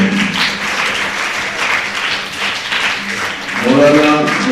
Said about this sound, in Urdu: تالیاں رکنی نہیں ہیں